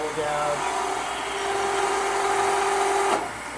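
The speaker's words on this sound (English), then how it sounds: "I like this bowl gouge." Bowl gouge cutting wood on a lathe for bulk removal, a continuous close scraping hiss with a steady whining tone that holds for about three seconds before the cut stops abruptly.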